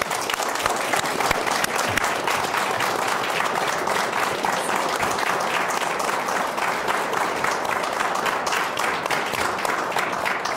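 Steady, dense applause from a studio audience welcoming a guest on a French television talk show, sustained and even throughout with no voices standing out.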